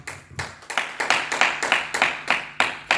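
A church congregation claps together in acclamation of the Lord, a steady run of about ten sharp, full-room claps at a quick even pace, fairly close and with no voices over it.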